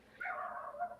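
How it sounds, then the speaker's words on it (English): A dog in a backyard gives a single short bark that trails into a whiny yelp, faint and distant against a quiet background. "Oh, that's my dog in the backyard."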